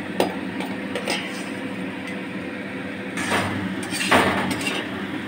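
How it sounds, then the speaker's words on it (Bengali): Spice paste with chilli powder, turmeric and grated coconut is stir-fried in a pan for chana dal. A utensil scrapes and clinks against the pan in a steady stream, with a few sharper knocks close by. "এবার মশলাটাকে আমি ভালো করে কষিয়ে নেবো।"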